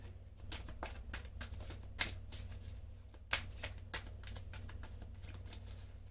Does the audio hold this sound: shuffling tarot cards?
yes